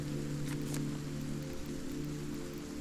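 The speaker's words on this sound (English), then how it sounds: "it's raining quite a lot" Steady rain falling in a cozy cottage-building video game, a continuous even hiss of rainfall on surfaces with a faint low hum beneath, no talk.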